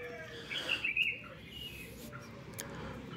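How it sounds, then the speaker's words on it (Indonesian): Birds chirping faintly over a steady outdoor background hiss, with a few brief tweets standing out. "Suara burung pagi terus berkicau menjadi saksi-saksi bisu kehidupan"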